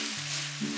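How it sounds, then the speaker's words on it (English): Vegan chicken enchilada filling with tomato paste being stirred in a pan, a steady broad sizzle with a low hum beneath. "And mix it all together."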